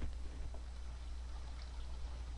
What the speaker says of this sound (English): here's some water through there.